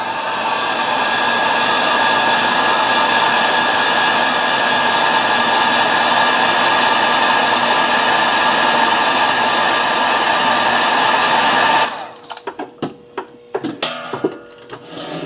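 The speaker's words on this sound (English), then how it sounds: "Just going to hit this with my heat gun real quick." A heat gun blows hot air onto a LiPo battery pack, a steady loud roaring hiss that cuts off near the end, leaving faint handling clicks.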